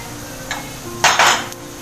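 A spoon scrapes and clinks against a pan while chilli powder and spices are stirred in for a Kerala-style snakehead fish curry, with a short scrape, then two louder rasping strokes close by and no voices.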